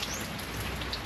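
Rain falling at home, a steady, dense hiss of drops on surfaces that is continuous and fairly loud, with no voices.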